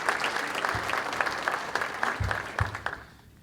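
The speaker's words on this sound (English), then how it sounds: "a round of applause for each one of you." Applause from the audience at a township address event, a steady crowd clapping at moderate volume with scattered louder claps, fading off near the end.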